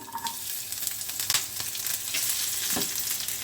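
Garlic and asafoetida fry in hot oil over a high flame, giving a loud, steady, close sizzle with a few stirring scrapes and no talking.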